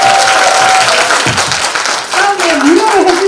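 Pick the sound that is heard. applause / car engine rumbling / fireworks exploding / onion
applause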